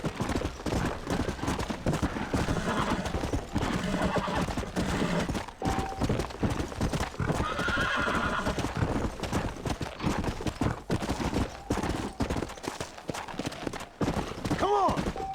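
Horses in Red Dead Redemption clatter along with busy, continuous clip-clopping hooves, mixed with game noise, occasional gunfire-like bursts, and a brief whinny near the end; a voice speaks over parts of it.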